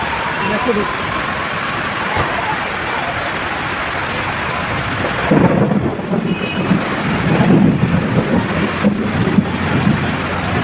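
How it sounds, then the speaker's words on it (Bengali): Heavy rain pours down during a thunderstorm with lightning, a steady loud hiss of downpour that swells midway with deeper rumbling thunder before settling back. "এত মুসলদারে বৃষ্টি যেমন বৃষ্টি তেমন বিদ্যুৎ চমকাচ্ছিল"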